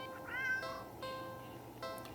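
A cat meows in a video game, a few short rising and falling calls spread over two seconds, clear and fairly close against a soft background hum.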